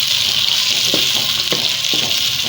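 Mutton pieces fry with turnip in a pan, making a loud, even, hissing sizzle close by, broken by a few soft stirring knocks, with no talking.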